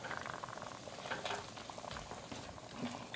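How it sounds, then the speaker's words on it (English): Beer deglazing a hot pan for applewood smoked beef brisket chili: a quiet, steady bubbling sizzle with soft scraping and stirring clatter, close and continuous. "We're going to deglaze our pan with this beer"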